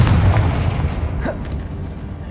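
A Confringo fire spell blasts in Hogwarts Legacy: a heavy, booming explosion that hits hard at once, then rumbles and crackles away over the next couple of seconds.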